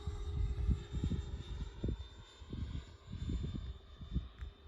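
Flex Innovations F100d RC airplane engine at half throttle in flight under a grey sky, a faint, distant hum with uneven low rumbling gusts.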